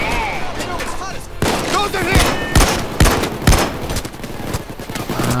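M308 rifle gunfire in the video game PayDay 2, sharp loud shots fired in rapid irregular bursts, with someone talking underneath.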